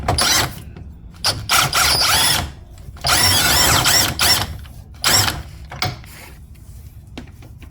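A power tool loosens the lower control arm bolts on a Nissan X-Trail T30 with a QR25 engine. About six loud, rattling bursts of varying length are separated by short silences.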